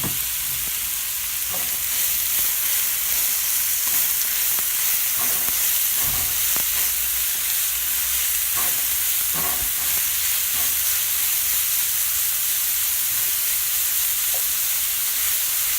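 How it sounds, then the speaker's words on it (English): Grated carrot frying in three tablespoons of ghee in a pan, a loud, steady hissing sizzle with scattered stirring scrapes and pops near the start, continuing evenly throughout. "So I have a pan heating with 3 tablespoons of ghee. I'm going to go ahead and put in my carrot,"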